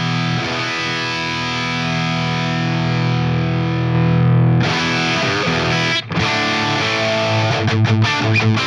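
Electric guitar run through a Marshall-style amp model on a Fractal AX8 unit, heavily distorted and fizzy, sustained chords ringing loud and continuous with a brief cut before the tone turns filthier.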